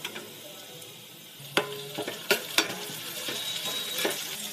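Onion and tomato frying in a pan, a steady soft sizzle broken by a few sharp clinks and scrapes of stirring, close by with no talk.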